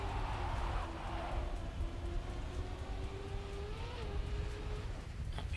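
A car drifting in TrackMania 2020, a steady engine drone with a tire-squeal tone that holds and bends slightly, fairly faint and continuous with no talk.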